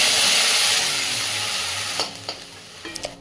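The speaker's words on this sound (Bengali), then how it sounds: "এবার মশলার পেস্টটি কড়াইতে দিয়ে দেব।" Spice paste fries in a kadai with a loud, steady sizzle that fades gradually, then a few brief scraping stirs near the end, close and alone.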